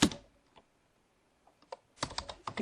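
A command is typed on a computer keyboard into a network simulator terminal: a short burst of keystrokes, a few scattered taps after a pause, then a denser run of quick clicks, close and fairly quiet.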